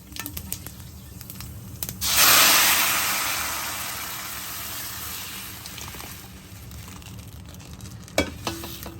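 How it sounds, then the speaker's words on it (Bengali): Panch phoron hits hot oil to temper lentil dal, bursting into a loud sizzle that slowly fades over several seconds, with a few sharp clatters near the end. "এখন আমি এতে পাঁচ ফোড়ন এক চামচ পরিমাণ ঢেলে নেব ডাল বাগার দিয়ে দেবো"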